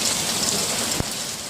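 Heavy wind-driven rain pelts a greenhouse during an Olympic Peninsula storm, a loud, continuous hiss of drops with one sharp knock partway through and no voices.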